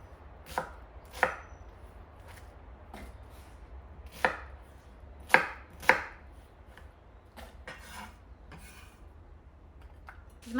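Onions, carrots and celery being chopped with a knife on a cutting board: a dozen or so crisp, irregular thuds, some louder and closer together, over a quiet background hum.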